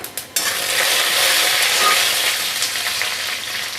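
Garlic and whole cumin seeds hit hot oil in a pan for a colocasia dish, bursting into a loud, close, continuous sizzle after a brief quieter moment at the start, with no speech.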